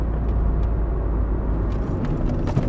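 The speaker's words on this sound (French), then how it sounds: "Alors, freinage, on va tester." 2006 Ford Fiesta 1.4 with a 68 hp engine during a hard braking test, heard from inside the cabin as a steady low road rumble and engine drone with a few faint clicks near the end.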